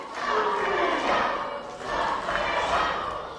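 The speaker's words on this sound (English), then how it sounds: "And the crowd are very, very well behind Sombrero there." Crowd at a live professional wrestling event roars and cheers in sustained swelling waves, loud and continuous through the whole moment.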